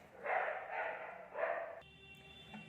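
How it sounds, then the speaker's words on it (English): Dogs bark outside in a few rough bursts at moderate distance, then fall quiet, leaving a faint hum. "these dogs are always barking outside"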